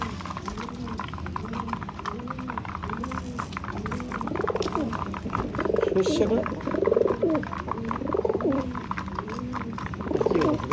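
Pigeons coo in soft, repeated rolling calls nearby as they eat dropped feed, with someone speaking in Bengali over the birds.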